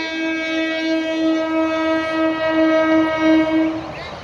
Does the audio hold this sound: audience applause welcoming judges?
no